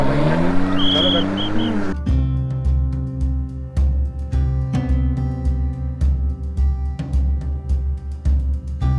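Quad bike engine riding in the desert at Rann of Kutch, a steady loud motor drone with pulsing revs and a rising engine whine, close and continuous throughout.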